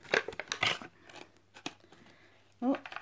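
Scissors snip through Bakugan toy packaging in a few sharp cuts, close and fairly quiet, with rustling and brief handling noises between them.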